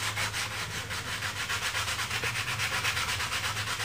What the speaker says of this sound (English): take a little piece of sandpaper and just clean up those braces